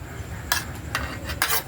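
A utensil mixes sinuglaw in a bowl, with three quick scraping clinks at an even pace over a low background hum.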